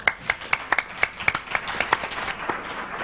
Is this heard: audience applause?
yes